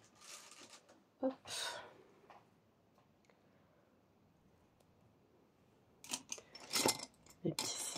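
Small black scissors snip double-sided tape at a crafting table in a few short, crisp cuts, with quiet stretches between and more handling noise and rustling toward the end.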